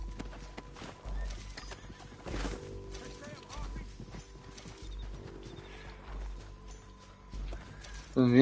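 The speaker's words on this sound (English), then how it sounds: "O cavalo deu um pulo." Horse in the Red Dead Redemption 2 video game, hooves clip-clopping in a steady rhythm with neighs and whinnies, the sound of the game's horse riding over low background sound, with a louder burst near the end.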